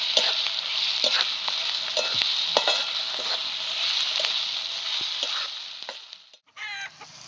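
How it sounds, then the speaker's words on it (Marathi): Onion and ground chili paste fry in a pan with a bright, steady sizzle broken by repeated stirring scrapes, close up, before the sound cuts off near the end, with a faint cluck in the background. "कांदा चांगला तळत आला की मिरची वाटलेली टाकून घेते"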